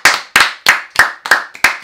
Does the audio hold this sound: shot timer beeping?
no